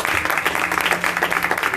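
A congregation applauds at an evening church service, a dense, steady wash of many hands clapping throughout with no voices over it.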